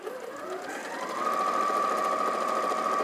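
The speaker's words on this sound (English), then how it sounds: "I'm using the Experience 560 ulna today, and the reason being is it's such a lovely machine" An Experience 560 sewing machine stitching steadily, a fast even mechanical hum and whirr that picks up speed after a second and then holds, close and alone with no voices.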